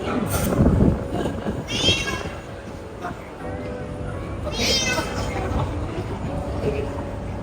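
Cats meow intermittently amid the bustle of a Sphynx cat show in Bangkok, with a couple of rising calls standing out over steady crowd noise and nearby talking.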